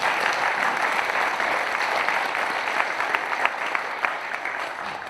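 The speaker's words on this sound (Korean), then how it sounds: "우리 이사장님께 한번 박수를 한번 크게 한번 쳐주세요." Sustained, dense applause from an audience honoring the foundation chairman at a Naju education event, even and energetic throughout with a few sharper claps standing out.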